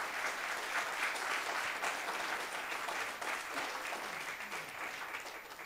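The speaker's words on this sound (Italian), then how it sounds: "vi chiedo un forte applauso per il presidente della giuria, Francesco Pala." Steady applause from an audience at a literary award ceremony in Olbia, a sustained wash of clapping that fades slightly toward the end, with no talk over it.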